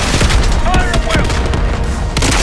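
Dense volleys of gunfire and booming blasts in a Call of Duty Black Ops 6 cutscene during an assault on a palace gate, loud and continuous, with a voice shouting briefly in the mix.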